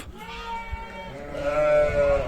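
Sheep bleating at feeding time on a village farm, with a mix of beet, silage, alfalfa and oats being put out; one loud, wavering bleat rises and holds close by, with fainter farm noise beneath.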